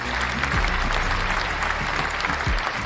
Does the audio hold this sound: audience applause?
yes